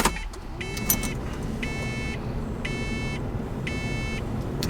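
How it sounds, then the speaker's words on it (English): A Lotus Evora 400's ignition warning chime beeps in regular pairs of tones because the door is open, steady and close, over a low idling car hum. "apologies for the ignition beeping because the door is open here"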